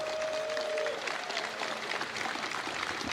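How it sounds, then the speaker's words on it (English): Audience at a gaming convention applauding a player, a brief burst of clapping with a short tonal sound at the start that fades into crowd noise. "Everybody, a round of applause for Rich Tyrer"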